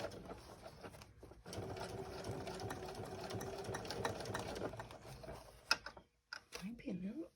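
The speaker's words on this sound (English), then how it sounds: "I'll meet you at the sewing machine." A sewing machine stitches denim and cotton fabric for a child's backpack, whirring in a steady run for a few seconds before stopping, with brief speech nearby and a short pause near the end.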